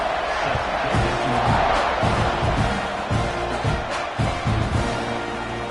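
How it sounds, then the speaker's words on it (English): A football stadium crowd at an NCAA game buzzes loudly after a score, a dense continuous roar with swells and scattered shouts throughout. "this crowd is buzzing after that last score"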